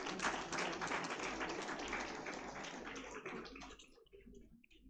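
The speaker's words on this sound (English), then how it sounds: "Can you give a good applause for her?" Graduation ceremony audience applauds, a fairly faint, dense wash of clapping that holds steady and then tapers off toward the end.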